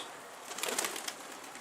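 A pigeon gives a short, soft coo close by over a low, steady background, the call swelling briefly and fading; nobody speaks.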